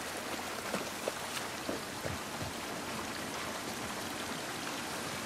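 Steady rain in the video game The Last of Us Part I hisses as a dense, continuous wash with scattered drip and patter accents, fairly quiet and without speech.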